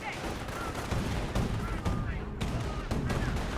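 Dense, continuous gunfire from soldiers in a garrisoned building's windows in the strategy game Company of Heroes 1, a steady crackling barrage of overlapping shots.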